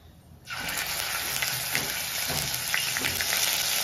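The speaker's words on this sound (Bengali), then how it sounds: "এবার আমি এটার মধ্যে দিয়ে দিচ্ছি বেটে রাখা পেঁয়াজ" Ground onion paste with a little ginger hits hot oil in a pan for Bengali fish curry, breaking into a sudden, loud, continuous sizzle after a brief quiet start.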